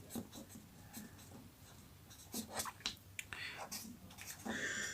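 Pen scratching on paper as a math problem is written out by hand during a lesson on antilogarithms, soft continuous strokes with brief taps, faint and close, with occasional quiet breaths or murmurs.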